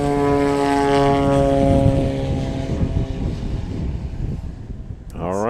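A STOL airplane's engine drones loud and steady at full throttle during a takeoff run at a STOL competition in Clarion, Pennsylvania, its propeller hum close and sustained before easing off near the end.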